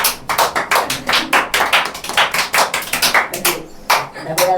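A small group claps in quick, uneven bursts, the sharp hand slaps close and steady for several seconds with brief pauses.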